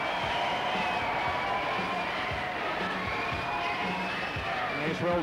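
Boisterous crowd at a race cheering and shouting continuously, a dense roar with overlapping voices and children's shouts, loud and sustained throughout.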